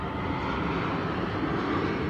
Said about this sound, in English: there's planes going overhead